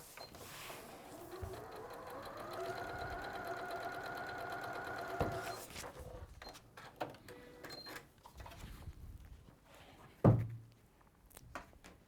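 A sewing machine stitches down the join of a garment, a steady motor whir that rises and runs for several seconds, followed by quieter clicks, rustling fabric handling and a thump.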